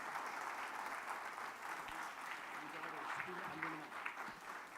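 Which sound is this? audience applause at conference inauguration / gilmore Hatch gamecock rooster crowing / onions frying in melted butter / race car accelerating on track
audience applause at conference inauguration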